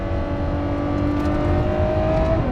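A Ferrari F12 TDF engine hums steadily at about 50 mph with a smooth, sustained drone and road rumble, recorded from inside, no one speaking.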